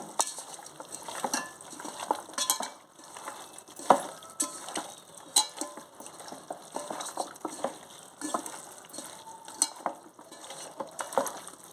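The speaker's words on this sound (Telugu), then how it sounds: "ఇది మొత్తం కలిసేటట్టు కలుపుకోవాలి" Chicken biryani mixture being stirred and mixed by hand or spoon in a pot, with continuous close wet squelching, scraping and clinking of utensil against metal.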